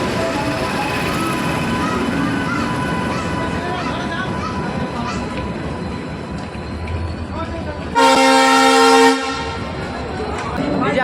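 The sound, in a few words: Garib Rath Express train arriving at platform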